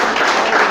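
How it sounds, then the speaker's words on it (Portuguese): Congregation applauding during a Portuguese-language church sermon, a dense, steady burst of clapping filling the short moment at close range. "Quem crê nisso pode aplaudir, glorificar."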